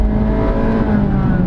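A Honda City RS hatchback's 1.5-liter engine revs in sport mode with a loud, steady, close growl that holds throughout, carrying no talk.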